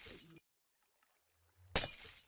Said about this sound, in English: What is the glass sound? The portal's breaking.